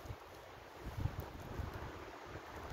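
Wind blowing through a Scottish forest in freezing winter, a steady broad rush with low rumbling gusts buffeting the microphone, and no voices.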